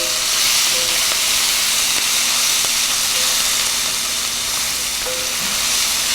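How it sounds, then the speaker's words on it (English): Red beans sizzling in a pot while being stirred, a loud continuous hissing fry with faint scraping strokes of the spoon, close and steady without talk. "All right, so I'm stirring away here."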